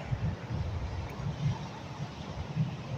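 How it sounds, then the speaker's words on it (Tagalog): Gusty headwind buffets the microphone in low, rolling rumbles while fishing, steady and fairly quiet, with a faint watery wash in the background. "Salubong na kasi talaga yung hangin."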